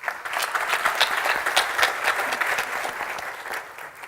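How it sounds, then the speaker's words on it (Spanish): Audience applause at a medical talk on endovascular stroke treatment, a dense burst of clapping from a crowd that fades toward the end, no voices over it. "te quiero dar la bienvenida con un fuerte aplauso de la audiencia"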